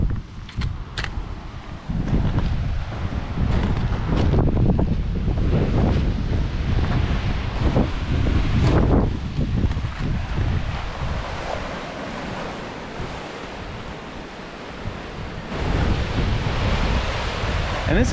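Ocean waves against the rocky coast of the Azores where the cliffs drop straight into the sea, loud surging surf over heavy wind buffeting the microphone, rising and falling in broad swells.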